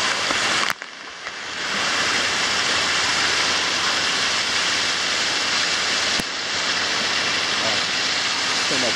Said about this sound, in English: So we get to play in a waterfall as well.